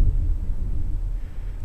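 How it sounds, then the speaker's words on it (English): Low, steady thunder rumbling with a deep throbbing undertone, continuous and fairly loud throughout, rolling on like distant thunder, heard through an open window. "Listen to this thunder."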